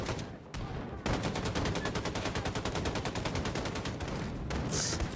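Sustained automatic gunfire rattles from weapons in the shooter game Wolfenstein II, a fast, dense stream of shots that briefly drops out near the start and then runs loud and continuous to the end.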